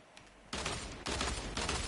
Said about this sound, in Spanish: ¿Has escuchado los disparos?